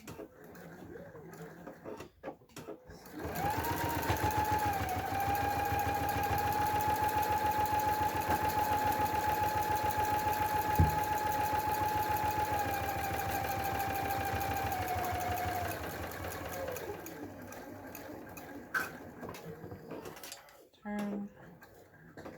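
A sewing machine runs in one continuous steady stretch of about thirteen seconds while stitching a wristlet an eighth of an inch from the edge, with a child chattering faintly in the room.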